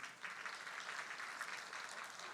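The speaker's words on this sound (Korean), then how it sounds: "우리 같이 환호의 박수 하십시다" A church congregation at a Sunday worship service breaks into warm applause to welcome a member, producing a soft, even patter of many hands that continues evenly without speech.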